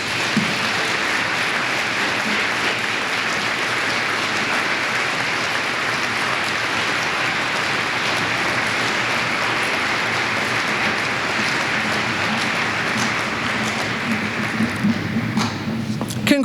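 Audience applause at a National Honor Society induction, a dense, steady wash of clapping from a large crowd that holds evenly for about fifteen seconds before breaking into a few scattered claps at the end.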